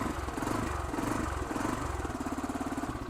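A Euro 2 compliant Yamaha YBR 125 G motorcycle engine runs close by with a quick, even, pulsing thump that holds steady throughout.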